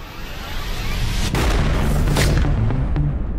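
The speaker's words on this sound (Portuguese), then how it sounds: "Foi tiro, cara!" A sharp gunshot bursts out about a third of the way in, followed by another crack, both loud against a steady background rumble.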